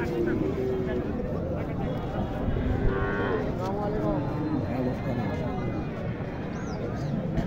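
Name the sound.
cattle mooing at a livestock market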